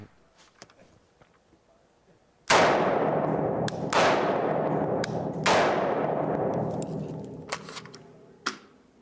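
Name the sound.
AR-15 rifle shots fired at a target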